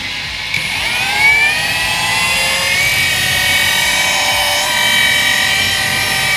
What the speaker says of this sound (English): I do cut with the Rotary Speed 4 because I can